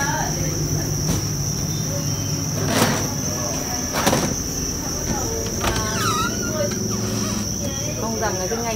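Farmed crickets chirp in a continuous high, shrill drone at a cricket-raising farm, steady throughout, with occasional squeaks, knocks and faint voices in the background.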